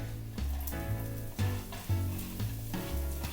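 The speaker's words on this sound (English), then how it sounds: "Okay, we know that garlic's sizzling." Garlic sizzles and fries in a pan, a close, steady crackling hiss with louder bursts as it is stirred, and music plays faintly underneath.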